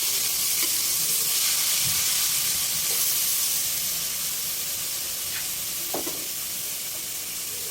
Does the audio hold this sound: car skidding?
no